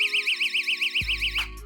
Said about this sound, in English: Mine's a little more robust in the fact that it is also an alarm. So it has an on-off switch and it will alarm